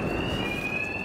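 A steady electronic alarm tone blares continuously at a fixed pitch inside a Batman: Arkham Knight level, holding loud and unbroken over a dense rumbling background.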